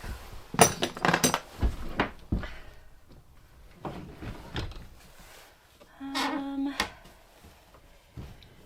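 Small metal bolt latch being fitted to a door in a potting shed, with scattered clinks, taps and metallic scrapes at close range, separated by quiet pauses and a brief sliding rattle.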